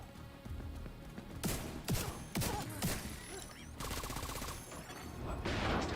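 Gunfire in the video game The Division 2, bursts of rapid shots and sharp cracks that come in clusters against a low game background, moderately loud with no talk.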